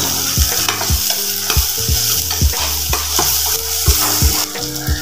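Lightly browned onions sizzle steadily in a pan while a spatula stirs them in quick, regular scraping strokes, about a dozen over several seconds, close and clear with no talk.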